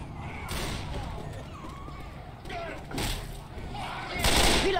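Bursts of gunfire in the Left 4 Dead 2 zombie shooter, several loud, sharp volleys spaced a second or two apart over a low ambient game rumble, with players talking between the shots.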